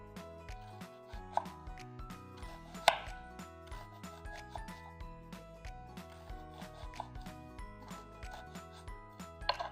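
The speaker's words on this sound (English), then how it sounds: "I'm using 1/2 of a good size red onion, and I'm slicing it really thinly" Half a red onion is sliced thinly with a knife, giving a steady run of quick, light chopping taps on a board, close and fairly quiet, with no talking.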